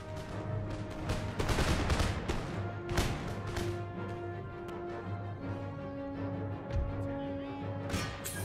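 Infantry volley fire in Empire Total War, Napoleonic-era musket lines against Prussian troops and militia, cracking in repeated bursts of gunfire over a steady tonal background of game music and battle din.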